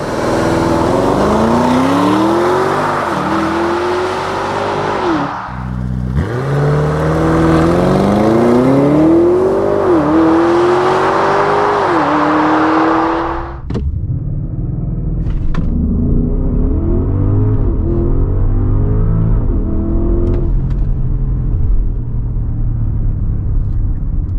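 An Audi SQ8 V8 TFSI SUV's powerful engine roars as it accelerates hard under launch control, pitch climbing through several gear changes, loud and continuous with steady road rumble underneath.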